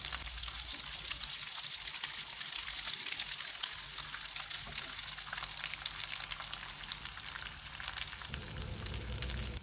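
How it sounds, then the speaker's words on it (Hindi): Aloo daal tikki kebabs frying in oil, a dense, even sizzle that fills the whole stretch at close range, steady and unbroken, with no talking. "इसी तरह से हम बाकी भी फ्राई कर लेंगे।"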